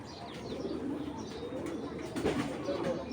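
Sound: pigeon, full black checker with silver eyes

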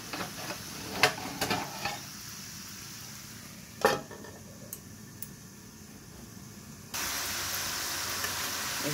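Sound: vegetables frying in oil

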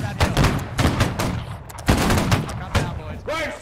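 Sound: musket volley firing in the video game Holdfast: Nations at War

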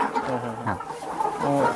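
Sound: hens clucking

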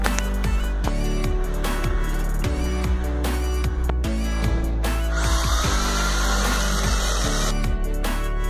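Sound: drilling a hole in wall tile

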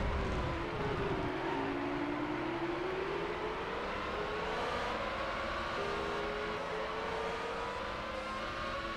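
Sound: Ferrari Formula One car racing, from video game Formula One 2000 PS1

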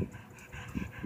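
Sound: pit bull puppy barking in park

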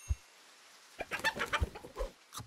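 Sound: chicken sound in the video game Super Auto Pets

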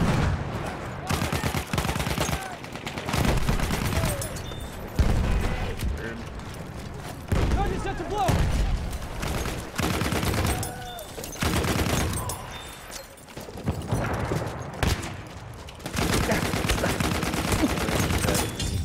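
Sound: enemy machine gun fire in the video game Battlefield 1

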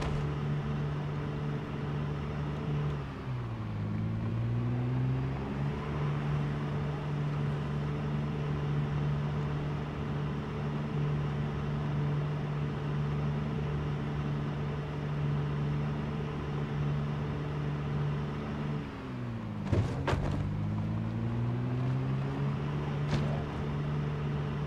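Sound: car driving in Project Zomboid video game

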